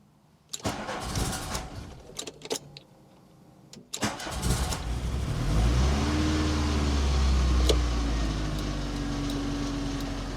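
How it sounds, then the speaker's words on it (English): A Volkswagen MK2 Golf GTI cranks and starts after a few clicks and clunks, then settles into a steady, close idle that rises slightly. "So let's try and start the engine."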